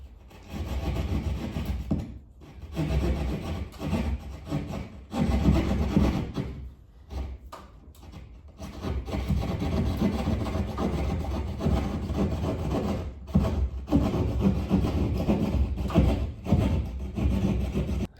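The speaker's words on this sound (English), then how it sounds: "cut that pattern out with my Leatherman" A Leatherman multi-tool blade saws through drywall to cut a hole in a garage ceiling, a close, rough rasping stroke after stroke with a few short pauses, loud and without any talk.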